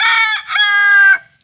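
A native desi rooster crows once, close and loud, a bright harmonic call that rises and holds before cutting off into silence.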